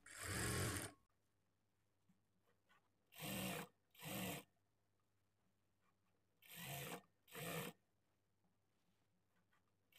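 A sewing machine stitches lining fabric in short bursts: five separate buzzing runs of about a second each, close and fairly loud, separated by quiet gaps with a faint low hum.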